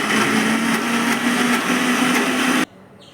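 Mixer grinder blending coconut and shallots, a steady loud whirring drone with a constant motor hum that runs for over two seconds and then cuts off abruptly into near silence.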